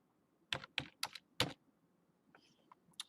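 A few sharp, close keyboard key clicks in a quick irregular burst, followed by softer scattered taps in a quiet room, from a keyboard with failing batteries.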